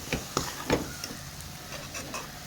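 A spoon mixes mashed banana and ghee in a bowl, making soft, rhythmic scraping and rubbing strokes that are faint and close, with no talk.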